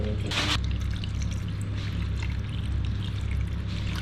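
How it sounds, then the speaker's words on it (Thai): Pickling brine is poured over crabs, with a short splashy burst near the start and then a quieter trickle over a steady low background hum, with no talking. "อันนี้น้ำสำหรับดองปูนะคะ เราก็ราดลงไปเลยนะคะ"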